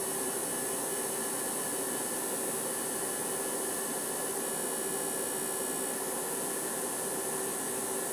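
A Tesla Avrora TIG-256 argon arc welder running in DC mode gives off a steady, continuous electrical hiss and hum with a sustained high whine, unbroken and fairly quiet throughout with no talking.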